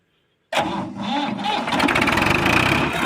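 Tafe 45 tractor diesel engine starting after silence: an abrupt loud crank catches into a rough, rapidly chugging idle, close by, that settles and continues steadily.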